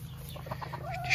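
Soft clucking from a Serama rooster, a few short low calls close by over a steady low background hum.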